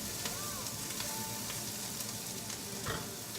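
Mixed vegetables frying and cooking down in coconut oil in a pan over high heat, a steady close sizzle with occasional stirring scrapes throughout.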